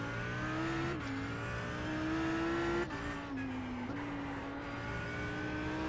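A GT3 race car in iRacing at Tsukuba, its engine droning loud and steady with rising revs, brief drops between gear shifts, and the rear tires slipping as the throttle stays held open.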